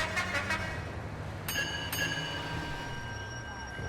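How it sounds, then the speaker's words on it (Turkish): Two short truck horn honks sound in quick succession in a video game, followed by a long, steady horn blare that fades out. "Bas oğlum şuna kornayı."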